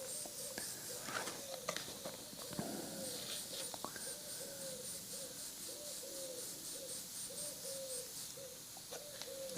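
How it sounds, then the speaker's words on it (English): Pigeons coo softly in the background, a repeated series of low hooting calls, faint and somewhat distant, set against quiet room ambience and occasional small knocks. "Can you hear the pigeons?"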